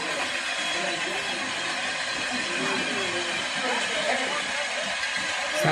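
A long train rolls past outdoors with a steady rumble and rattle of rail cars, and people talk over it.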